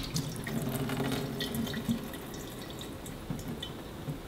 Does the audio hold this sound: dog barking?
no